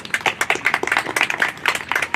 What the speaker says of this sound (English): So parents, we'd like to give you a round of applause.